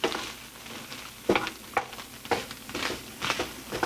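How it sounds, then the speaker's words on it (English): Ingredients being stirred into a wild rice salad, with a series of short scraping and clinking strokes in an irregular rhythm, close up and moderately loud, with no talking. "We're just going to stir those in."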